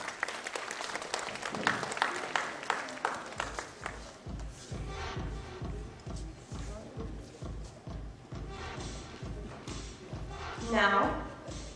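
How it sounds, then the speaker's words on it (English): An audience applauds at a felicitation ceremony, with dense clapping that settles into a rhythmic steady beat and a voice rising near the end. "A big round of applause for Mrs. Aditi Mishra."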